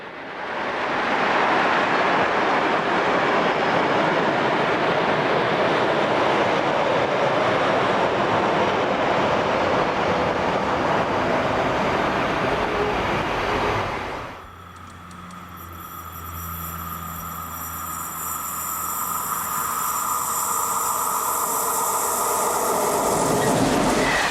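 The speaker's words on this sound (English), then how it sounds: "Here number 1042-021 enters the station at Prinzersdorf on the Westbahn main line between St. Pölten and Linz" An ÖBB class 1042 electric locomotive enters Prinzersdorf station on the Westbahn main line, a loud sustained rumble and rush that fades midway, then gives way to humming, whining tones and rising rolling noise.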